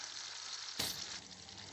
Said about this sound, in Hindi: प्याज हल्का ब्राउन हो रहा है